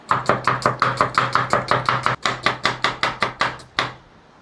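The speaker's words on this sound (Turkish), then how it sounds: "Şöyle soğanlardan doğramaya başlayalım." A knife chops onions rapidly on a cutting board, a fast even series of sharp close thuds with one brief pause, then stops.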